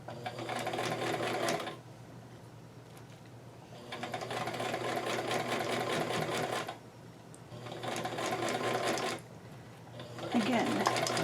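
A sewing machine stitching a doll dress with an extended shoulder runs in several bursts of rapid whirring and needle clatter, separated by short pauses where it stops.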